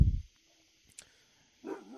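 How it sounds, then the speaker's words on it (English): A dog out on a porch gives a single short bark, followed by a near-silent pause with a faint click and then a brief whimpering yip close by. "that's my dog there, sitting out on the porch right now"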